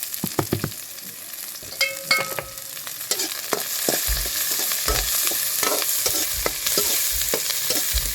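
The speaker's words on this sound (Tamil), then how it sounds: "அடுத்து வெங்காயம் போட்டுக்கலாம். அடுத்து காஞ்ச மிளகா போட்டுக்கலாம்" Onion and dried red chillies fry in a pan for banana flower poriyal, a steady close sizzle with repeated scraping stir clicks and knocks throughout, no voices.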